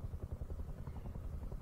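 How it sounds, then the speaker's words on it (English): Low, pulsing rotor chop of a helicopter in the video game Rust, steady and moderately distant, with no voices over it. "Bad time for that helicopter to show up."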